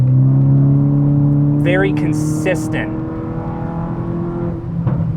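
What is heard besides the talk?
car engine roaring under acceleration with APR ignition coils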